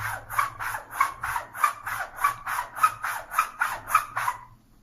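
A straight razor stropped on the fabric side of a strop gives about a dozen evenly spaced, brisk rasping swipes in a steady back-and-forth rhythm, close and clear with no talking.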